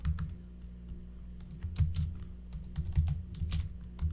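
Typing on a computer keyboard: a run of quick, close, fairly soft key clicks in irregular bursts with short pauses between, over a faint low hum and with no talking.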